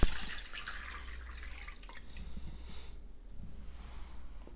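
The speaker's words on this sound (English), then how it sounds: "we're going to go into a large bowl with 4 cups of lukewarm water" Lukewarm water pours into a large bowl for pizza fritta dough, a soft splashing trickle that thins out partway through, close and fairly quiet, with no talking.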